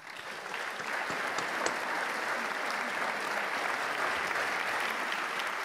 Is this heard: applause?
yes